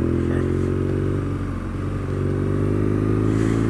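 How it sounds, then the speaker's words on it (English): A 2019 BMW RNineT Scrambler's air-cooled R1200 boxer twin runs steadily up close, a deep, even throb with strong low harmonics and a slight dip in revs midway, with no talk. "So this is the R1200 Boxer engine,"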